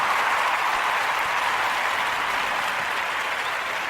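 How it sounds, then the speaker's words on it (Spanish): Recorded applause sound effect played back during a Spanish-language comedy monologue, a dense, steady wash of many hands clapping at an even level throughout, with no voices over it. "Espérenme, aquí tengo los aplausos."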